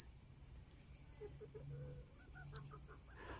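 Chickens cluck softly in short scattered calls over a steady high insect drone, with faint background hum and no talking.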